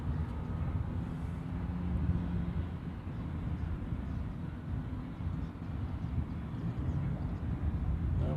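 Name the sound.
C-17 military transport aircraft moving at Honolulu airport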